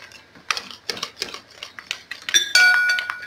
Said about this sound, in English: you whisk, make sure you whisk it very well to make it form very smoothly